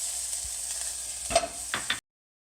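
Minced garlic sizzling in olive oil in a pan for garlic noodles: a steady hiss of frying with a few sharper crackles and pops near the end, then abrupt silence.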